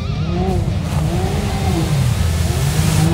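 A lifted turbocharged 4x4 ATV engine revs steadily in two-wheel drive during a rainy ride while warming up, giving a continuous, loud, rough mechanical drone with wavering pitch throughout.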